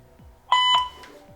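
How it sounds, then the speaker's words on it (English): A single bright electronic beep from a KAWA T6 Pro security camera pairing, lasting about a quarter second, clear and close, with faint background noise around it. "And I heard the beep."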